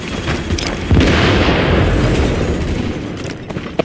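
Booming explosions and gunfire fill a first-person shooter game, with a big sustained blast rumbling loud and close amid scattered shots.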